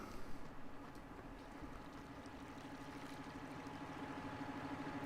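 A tractor engine drones steadily while cultivating in Farming Simulator 17, a faint, even, distant rumble with a slight pulsing throb and no talking.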